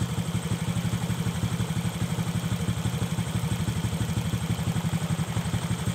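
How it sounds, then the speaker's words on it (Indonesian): A Honda Kharisma motorcycle idles at low revs after a carburetor adjustment, its engine putting out a steady, even, rapid pulsing chug close up with a light mechanical clatter and no voices. "pada putaran bawah atau putaran rendah atau mesin langsam"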